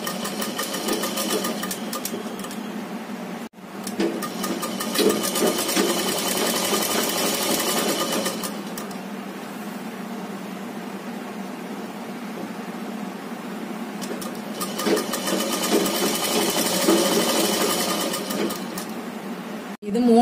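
An electric sewing machine stitches fabric during a basic tailoring class, its steady mechanical whirr running in long bursts with a short pause between them, close and fairly loud.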